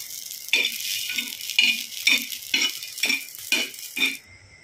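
Green chillies and garlic cloves roast in a hot pan while being stirred, giving a steady sizzle with repeated scraping strokes at a regular pace, close and moderately loud, no voices.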